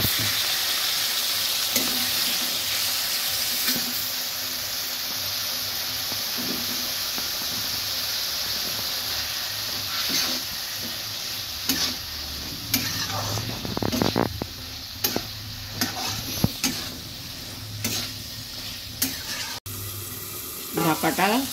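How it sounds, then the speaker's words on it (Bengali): Water splashed into a hot pan of Bengali rohu fish curry with potato and vegetable stems, setting off a steady broad sizzle and frying hiss, with scattered clinks and stirring scrapes toward the end. "হালকা একটু জল দিয়ে দিচ্ছি।"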